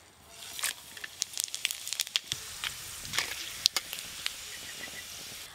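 Whole cumin, dried chillies, bay leaf, cardamom, cloves and peppercorns crackle and sizzle in hot mustard oil for an egg dish, a steady close frying hiss broken by sharp popping spits and a few scraping clinks.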